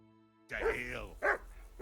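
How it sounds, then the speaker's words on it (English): Dog barking in the video game Kingdom Come: Deliverance 2, a few sharp barks in quick succession over a low hum, with a voice talking alongside. "That barking was a pain in the ass."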